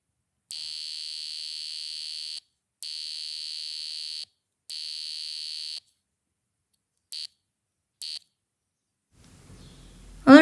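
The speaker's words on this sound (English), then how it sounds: "as you saw on the demonstration, the buzzer barely had any delay" A microcontroller-driven buzzer plays a note as three long, even tones of about two seconds each, then two short beeps, all clean and loud, followed by a faint rustle and a brief thump at the end.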